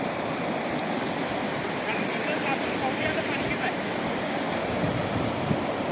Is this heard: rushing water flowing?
yes